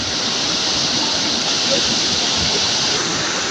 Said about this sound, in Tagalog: Dito tayo sa Jordan Falls.